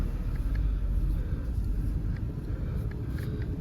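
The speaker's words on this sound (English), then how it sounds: "Just start the car up." A Ford Focus 1.0 EcoBoost petrol engine with a manual gearbox and over 100,000 miles idles steadily just after starting, a low, even rumble heard alone and fairly quiet throughout.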